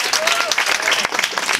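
Loud applause from a street arts festival crowd, dense clapping throughout with voices talking over it.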